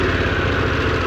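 Harley-Davidson Pan America motorcycle engine idling steadily after starting, a continuous close, loud rumble with an even low pulsing throb and no voices.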